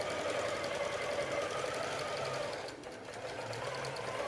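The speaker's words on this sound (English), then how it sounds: "Now it's going to sew this next section." A computerized sewing machine stitches a section of quilt on a quilting setup, giving a steady, fast mechanical whir with a rapid repeating needle beat. It runs loud and continuous, dipping briefly in the middle before resuming.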